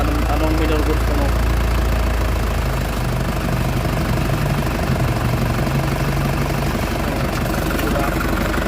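An Isuzu Crosswind diesel engine idles steadily and loudly up close while the injection pump idle screw is adjusted, a constant rumbling drone that never lets up.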